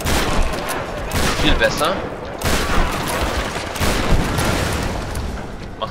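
Shotgun blasts and gunfire in a Tomb Raider video game firefight at a shanty settlement, with loud repeated shots and bursts across the whole stretch while someone talks briefly over them.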